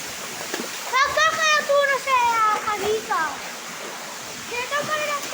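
A waterfall splashes and rushes steadily in the background while children and an adult talk and call out excitedly over it.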